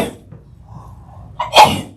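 A single sharp sneeze bursts out near the end after a quiet pause, abrupt and fairly loud.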